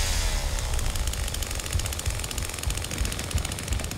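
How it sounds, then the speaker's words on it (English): Chainsaw in The Texas Chainsaw Massacre video game, a harsh, rapid rattling buzz that holds steady for several seconds, loud and close with no talking. "Gotta rev my chainsaw"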